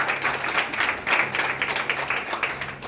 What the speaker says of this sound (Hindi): एक बार जोरदार तालियां हमारे नए गेस्ट के लिए